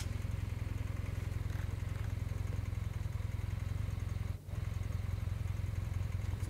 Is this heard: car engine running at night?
yes